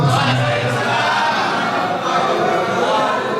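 Crowd at a hospital emergency-detection workshop in Semarang cheering and chanting in unison with some clapping, a continuous loud roar of voices that stays dense from start to finish.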